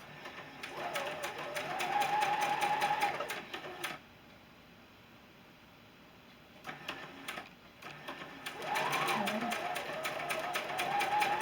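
A sewing machine stitches quilt squares in short runs of rapid mechanical whirring, with a pause in the middle and a voice talking quietly alongside.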